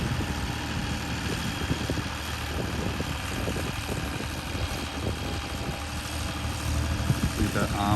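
A Massey Ferguson 260 tractor engine runs at a steady, throbbing drone close by, holding an even pace for the whole stretch with no pauses.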